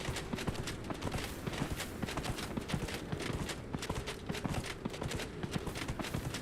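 Horse hooves pound in a quick galloping rhythm in the Dragon Age: Inquisition video game, dense repeated clip-clops close up and fairly quiet, with no one talking.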